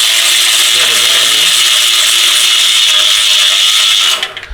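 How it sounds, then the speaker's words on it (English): An electric ratchet on a 6-inch extension and 15mm wobble socket spins a transmission mount bolt, a loud, steady high whir lasting about four seconds before stopping with a few short clicks. "I like to use an electric ratchet with a 6-inch extension with a 15mm wobble socket"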